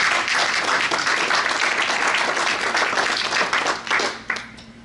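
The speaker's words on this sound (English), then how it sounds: "Give yourself applause for that." Audience applause at a 2017 award ceremony: a sustained, dense wash of many hands clapping that thins and fades in the final second.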